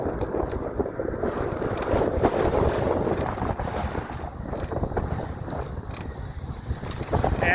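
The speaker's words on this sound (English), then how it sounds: "huge wind we're feeling right now" Strong wind buffets the microphone outdoors in a steady, loud roar with gusty low rumble throughout, no voices heard.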